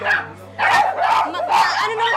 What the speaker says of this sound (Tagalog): The dogs have taken over.